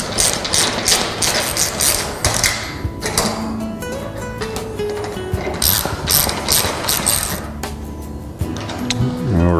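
A ratchet tightens small black screws into a rail of a tilt-away Murphy wall bed, loud close rapid pawl clicking in repeated bursts with brief pauses, without speech.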